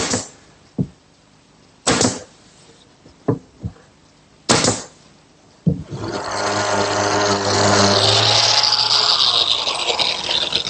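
Brads nailed along the back edge of a wooden drawer box without glue: six sharp, separate snapping shots at irregular intervals, close and loud, followed by a steady mechanical whirring.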